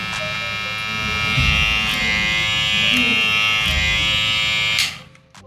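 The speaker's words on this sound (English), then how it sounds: "This sound is smooth, as you can hear." A BRDCLIP F90 electric hair clipper, about 6,500 RPM, buzzes steadily at close range with a high, even hum, its pitch wavering slightly before it switches off near the end.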